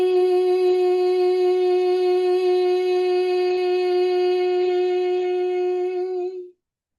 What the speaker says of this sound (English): you're going to inhale through the nose and you're going to exhale on a hum